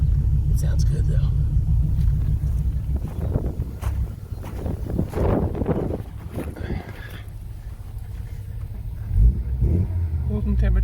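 An Audi 4000 Quattro engine running after its CIS fuel injection was reassembled and the timing adjusted, a steady low rumble with wind buffeting and someone talking over it throughout.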